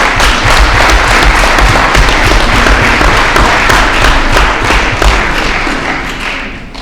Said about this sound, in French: solliciter vraiment des applaudissements pour l'équipe d'organisation de ce colloque